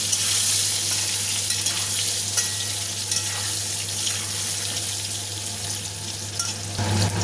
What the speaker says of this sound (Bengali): এখানে আমি এই সিদ্ধ করা আলুটাকে ভালো করে ভেজে নেব।